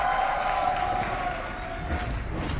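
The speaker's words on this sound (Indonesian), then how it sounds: "Bisa tepuk tangannya!" Audience applause and cheering fill the MPL Arena at an MPL Indonesia esports match between ONIC Esports and RRQ Hoshi, a steady loud wash of clapping crowd noise throughout with a sustained tone underneath.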